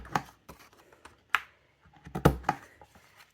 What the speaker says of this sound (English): it has a nice little corner rounder here, so your envelope will have rounded corners